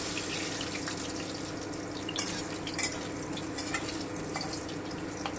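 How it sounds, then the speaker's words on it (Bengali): Potatoes lightly browning in hot oil for a mutton rezala, giving a steady, close hiss of frying with a few small pops and crackles and no talking. "এবারে আমি আলুটা ভেজে নেব।"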